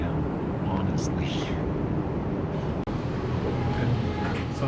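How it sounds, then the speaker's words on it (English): A Las Vegas tram rolls along with a steady low rumble and hiss from inside the car, a faint voice murmuring near the start. "The tram is now departing."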